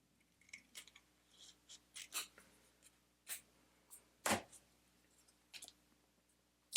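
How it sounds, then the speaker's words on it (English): Scissors snip a strip of Mottled Bustard Olive Thinskin for fly tying, a series of faint, close, sharp cutting clicks with one stronger snip partway through and quiet gaps between. "And I'm going to cut this strip."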